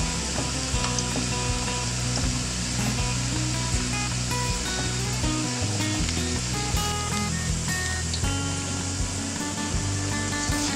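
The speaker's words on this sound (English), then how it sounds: "make sure that they are nicely submerged in the oil" Spinach and kale pakoras fry in a pan of hot oil with a steady, dense sizzle and crackle, close and continuous with no talking.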